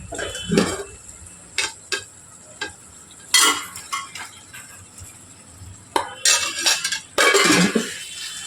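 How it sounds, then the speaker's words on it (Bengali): Meat and potatoes for chicken biryani are stirred and fried in a pot, with a spatula scraping and clanking in bursts over a steady soft sizzle. "আলুগুলো দিয়ে মাংসটা একটুখানি কষিয়ে নেব"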